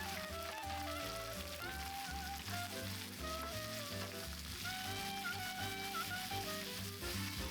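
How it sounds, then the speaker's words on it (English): Reserved shrimp shells fry in a couple tablespoons of hot oil in a saucepan over medium heat, giving a soft, continuous crackling sizzle close by with no voices. "heat a couple tablespoons of oil in a saucepan over medium heat and then add our reserved shells"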